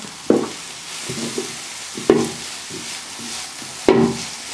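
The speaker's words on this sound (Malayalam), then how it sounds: "ഇനി അതെല്ലാം കൂടി ഇട്ടൊന്ന് ഇളക്കാം" Onions and curry leaves fry in a pan for a Kerala kappa biryani, with a steady sizzle under three distinct scraping stirs of a spoon against the pan at roughly even intervals.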